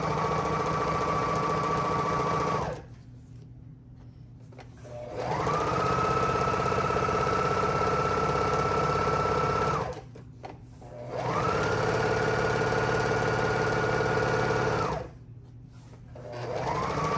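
A sewing machine, used here on silk fabric for worship flags, runs in three long bursts of rapid, steady whirring stitching, close and fairly loud, separated by short pauses where the motor drops to a low hum.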